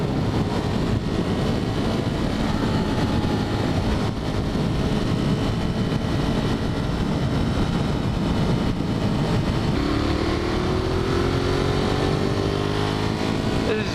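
A Ducati Monster 1200 motorcycle engine runs hard while riding at around 8,000 RPM. It gives a steady, loud, buzzy drone mixed with wind rush, and its pitch climbs as the engine revs up near the end.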